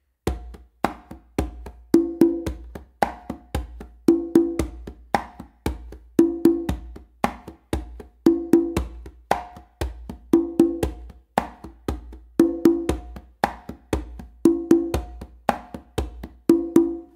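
Conga drum plays a continuous tumbao pattern with the bass tone accented, a steady looping rhythm of crisp taps and ringing open tones with deeper thumping bass strokes standing out, close and alone.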